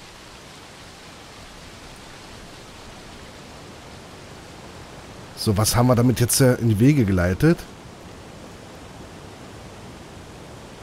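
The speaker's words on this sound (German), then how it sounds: "Dann machen wir doch den Wasserfall einfach mal an." A waterfall running in the video game Obduction, a steady broad rushing wash heard throughout, with someone talking briefly over it midway.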